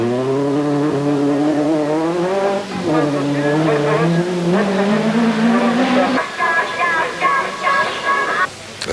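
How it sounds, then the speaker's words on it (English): Renault Clio rally car driven hard on a night stage of the 1995 Ypres 24 Hours rally in Belgium, engine note climbing steadily through revs, dropping at a gear change, then rising again, loud and close throughout. "Verreydt Munster there, hurling this little car about to considerable effect"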